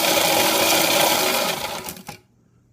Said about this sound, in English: So we take the two things and we grind them up.